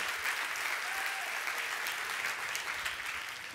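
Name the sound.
audience applause for Whindersson Nunes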